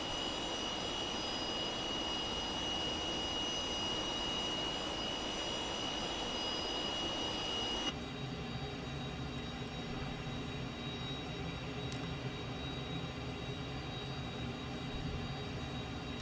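A Cessna T-37 jet trainer in a flight simulator game drones with a continuous turbine whine and high tonal hum, shifting abruptly in character partway through before settling into a steadier, slightly quieter engine roar; no speech.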